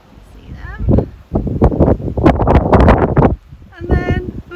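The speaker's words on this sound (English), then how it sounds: "oh, it's so windy up here as well, that was putting me off." Strong wind gusts buffet the microphone atop the Moorish castle ruins of Castelo dos Mouros in Sintra, a loud rumbling roar that surges and drops, heard alongside a person talking.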